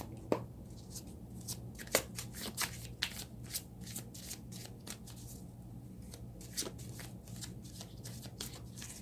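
Tarot cards shuffled close by in a steady series of crisp riffling flicks and soft slaps that repeat across the whole stretch, quiet and alone with no talk.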